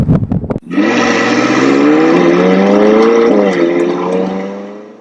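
The 3.8-litre twin-turbo V8 of a 2019 McLaren 600LT Spider barks to life and holds a loud, sustained rev with a smooth rising and falling tone, close by, fading slightly at the end.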